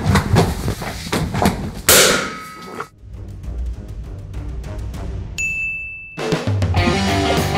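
Loud metallic clanging from a ladle struck hard on a large pot, a burst of ringing hits followed by a quieter stretch, then more clattering bangs near the end.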